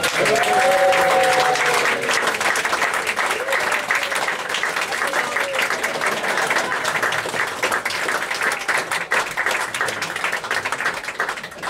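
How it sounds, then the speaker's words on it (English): Loud, sustained applause from a wedding crowd for the bride and groom, dense clapping that carries on steadily for the whole stretch with a few voices mixed in early. "a big round of applause"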